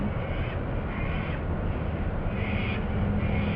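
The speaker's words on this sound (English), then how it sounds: "The cockatoos, as you can hear them above me right now," Harsh, raspy sulphur-crested cockatoo screeches repeat overhead in a noisy wash, several birds calling over each other against constant background noise.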